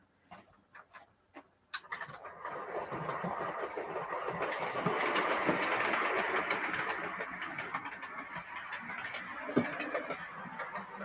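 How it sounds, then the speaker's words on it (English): A model railway train, a BR standard tank locomotive, runs along a layout with a steady rolling rumble and faint squeals after a few sharp clicks of points at the start, continuous and fairly close. "local train just pulled in"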